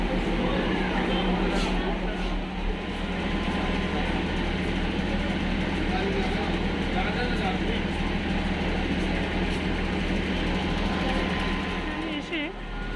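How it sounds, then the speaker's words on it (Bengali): Darjeeling toy train pulling into Kurseong station, a steady, loud rolling rumble and rattle of the carriages that continues throughout, with voices talking over it. "টয় ট্রেন চলে এলো কার্শিয়াং স্টেশনে"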